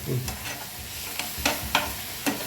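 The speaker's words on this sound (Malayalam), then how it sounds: "തേങ്ങ ഇളക്കണം" Grated coconut with cumin stirred in a hot pan makes a soft close sizzle broken by several sharp scrapes and taps of a spoon against the pan, with no talk over it.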